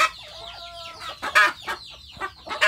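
A large village rooster (ayam kampung) clucks near a hen about to lay, giving a close series of short, uneven clucks and squawks with brief pauses between bursts.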